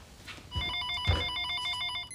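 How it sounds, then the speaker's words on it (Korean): A telephone rings in a French film scene, an electronic bell-like tone in repeated bursts, fairly close and clear with no talk over it. "한편 친구에게 전화가 옵니다"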